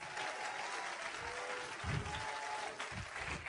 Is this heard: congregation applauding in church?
yes